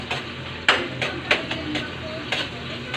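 Malabar spinach (alugbati) being stirred in a frying pan with garlic, giving a steady sizzle with a few sharp utensil scrapes and clicks at irregular intervals, close and alone without talk.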